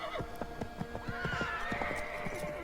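A horse neighs and whinnies in Assassin's Creed 3 over steady clip-clop hoofbeats, loud and close, with no talk.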